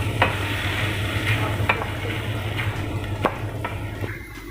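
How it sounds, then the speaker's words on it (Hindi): Shredded boiled chicken thigh frying in a pan for chicken bread, a steady close sizzle with a low hum beneath and several sharp scrapes and clicks of a spoon stirring through it. "चिकन को गोल्डन ब्राउन होने तक थोड़ा फ्राई करेंगे।"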